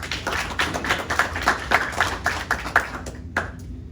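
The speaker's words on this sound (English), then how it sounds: "give yourself a nice round of applause" A small class claps in a steady, even rhythm for a few seconds, then the clapping thins out and stops.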